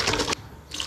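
Water poured into a bowl of custard cake batter mixture of egg yolk and sugar, a short bright splashing pour that cuts off abruptly and then resumes, close and fairly loud.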